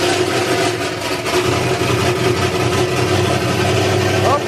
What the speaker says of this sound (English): As you can hear, we got that car firing up.